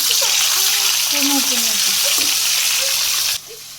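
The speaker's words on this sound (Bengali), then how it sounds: "মাছ ভাজি করতেছি শুধু হলুদ দিয়ে" Two pieces of small fish coated only in turmeric fry in hot oil on a stove, giving a steady, loud broadband sizzle that holds throughout before dropping off abruptly near the end, with faint voices beneath.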